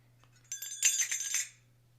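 Belly dance finger cymbals are struck in a quick, quiet cluster of bright metallic rings, several overlapping clinks lasting about a second against a low background hum.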